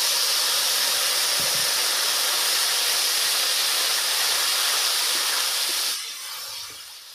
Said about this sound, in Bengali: বন্ধুরা, এবার এর মধ্যে অল্প পরিমাণ জল দিয়ে দিলাম